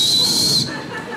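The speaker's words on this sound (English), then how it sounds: "You've been whistling me all night." A loud, sustained high whistle from an audience member at a stand-up comedy show cuts off abruptly partway through over a background of crowd murmur.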